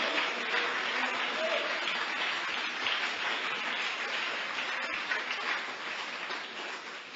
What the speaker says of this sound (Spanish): Dele el aplauso al Señor de la gloria.